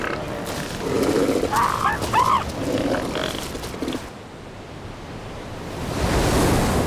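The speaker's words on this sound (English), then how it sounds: "the ocean collides with a remote peninsula." Ocean surf rolls and crashes on a remote Patagonian peninsula coast, a broad roaring wash that swells, eases off midway, then builds again, with some rough grunting animal calls early on.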